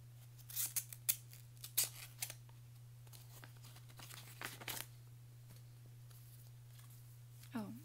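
An envelope from a package holding K-pop albums and photocards is cut open: soft, quiet snips and crinkling paper come in scattered bursts over a faint steady hum.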